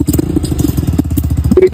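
A motorcycle engine idles and putters close by with a steady low pulsing rumble, nearly alone, with a brief mechanical clatter near the end.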